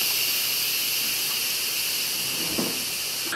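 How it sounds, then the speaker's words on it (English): Pressure cooker venting steam through its release valve after cooking meatballs, a steady loud hiss filling the whole clip with no breaks and no talk. "we'll go ahead and turn this to vent and allow any additional steam and pressure to release"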